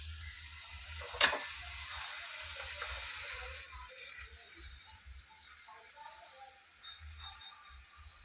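Puri dropped into hot oil makes a quiet, steady sizzle and bubbling hiss, with a brief sharp crackle near the start and a low background hum throughout.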